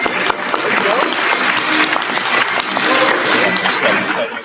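Loud audience applause fills a crowded anime panel at a pop culture expo, a dense sustained clapping that swells and holds steady as the crowd votes, with some voices mixed into the noise.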